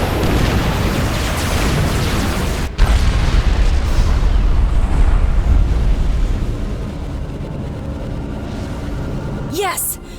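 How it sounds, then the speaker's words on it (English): The huge Colossus experimental unit exploding in the video game Supreme Commander 2: a loud, deep rumbling boom with a sharp burst partway through, then a long, slowly fading roar, under talk. "The Colossus is down! The bigger they are, the bigger their explosion."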